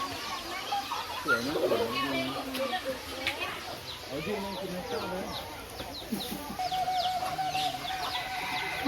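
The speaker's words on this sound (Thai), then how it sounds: "มีไก่ด้วย" Chickens cluck and chatter in the background at Khon Kaen Zoo while people talk over them, with occasional higher-pitched bird calls mixed in.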